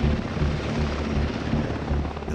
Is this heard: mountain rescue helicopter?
yes